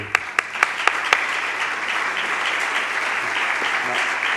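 A conference audience at a mercantile club breaks into applause, opening with a few sharp individual claps before settling into a steady, moderately loud patter of clapping.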